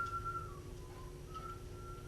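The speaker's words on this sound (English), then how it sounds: "Your whistling sucks." Someone whistles a thin, wavering tune softly, drifting up and down in pitch against a quiet background hum.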